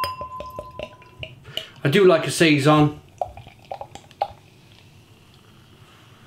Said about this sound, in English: let's get this beer out into a glass, see what we get